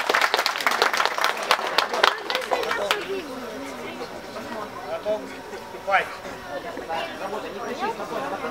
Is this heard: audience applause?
yes